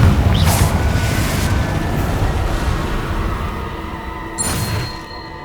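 Confringo fire spell blasts in Hogwarts Legacy, a loud booming burst up front followed by a rumbling, crackling wash, with a second sharper impact near the end, no talk.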